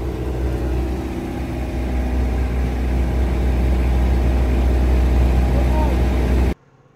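A low, steady motorcycle engine idle hums close by for several seconds, then cuts off abruptly near the end.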